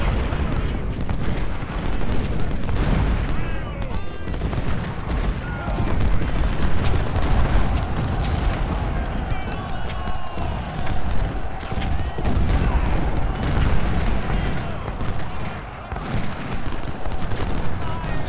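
Repeated booming cannon blasts and rapid gunfire crackle through a dense, continuous battle din in the video game Ultimate General: Civil War, with no voices clearly standing out.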